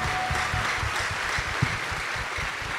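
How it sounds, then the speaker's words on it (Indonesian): Church congregation clapping together during a worship service, a steady dense wash of applause filling the room at moderate loudness throughout, with no talking over it. "Berikan tepuk tangan yang paling dahsyat bagi Tuhan saudara"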